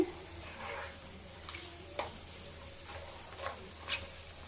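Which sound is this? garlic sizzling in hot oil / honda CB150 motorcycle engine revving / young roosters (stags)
garlic sizzling in hot oil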